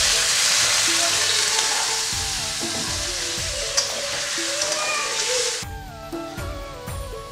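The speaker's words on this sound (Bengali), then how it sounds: "এবারে অল্প করে জল দিচ্ছি।" A little water poured into a hot pan for a Bengali pabda fish curry, giving a loud hiss that settles into steady frying sizzle, then eases off and turns quieter near the end, with no voices.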